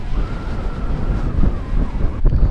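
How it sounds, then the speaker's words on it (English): Wind gusts buffet the microphone during mountain snowfall near Salt Lake City, a loud rumbling roar with swelling bursts and a sharper gust near the end, no talking. "it's windy"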